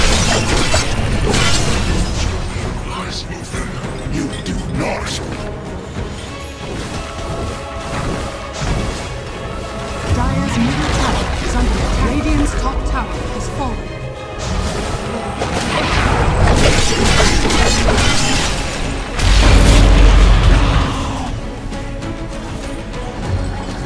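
Dota 2 match sound with a dense, continuous clash of crashes, shattering impacts and whooshes from fighting around a besieged tower, loud and steady throughout with a heavier burst near the end; no talking.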